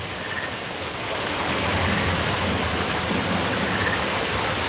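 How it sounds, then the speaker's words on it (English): Steady broadband rush of a waterfall at a theme park in Animal Kingdom, a continuous hiss that swells slightly after the first second and stays even and fairly loud throughout, with no talk over it. "I love looking at the waterfalls."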